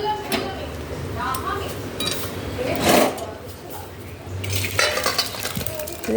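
A metal cooking pot of soybean and potato curry is lifted off a gas stove with a few clanks and scrapes of metal, scattered clinks around a louder knock near the middle.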